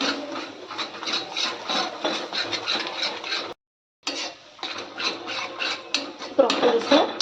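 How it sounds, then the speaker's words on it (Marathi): Spatula scraping and stirring spices into a cashew seed curry in a pan, a close, steady rhythmic rasping that pauses briefly and then resumes, with light sizzling clatter. "हे जे पूर्ण मसाले आहेत ते टाकून घ्यायचे परत एकदा असं प्रॉपर मिक्स करून घ्यायचं"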